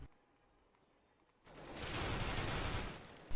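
Sustained burst of FAMAS rifle fire in CS:GO during a competitive 3v3 round, a dense loud rattle rising after a quiet start and lasting about two seconds, with a sharp shot at the end.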